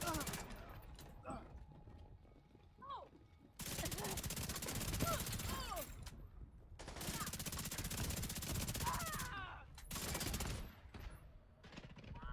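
Sustained automatic assault-rifle fire in the video game The Division 2, long bursts of rapid shots separated by short pauses, loud and close over a voice and background game sound.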